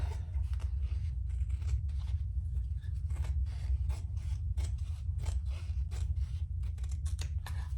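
Scissors snip repeatedly through fabric while trimming the sides of a sewing project, a steady run of close, crisp cuts over a low, constant hum.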